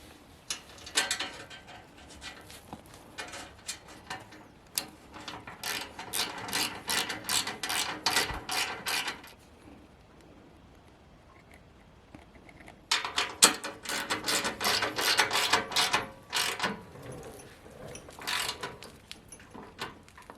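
Ratchet wrench clicking as bolts on a Harley-Davidson TAB Performance Redline exhaust are tightened one at a time, two long bursts of rapid close metallic ratcheting separated by a pause, then a few scattered clicks.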